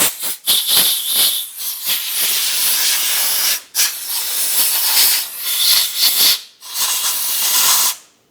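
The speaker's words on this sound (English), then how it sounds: "I'm going to just use some compressed air and blow out the threaded holes." Compressed air blasts out the threaded bolt holes of a 1997-2006 Jeep Wrangler cylinder head, loud repeated hissing bursts of varying length broken by short pauses, close up with no talk.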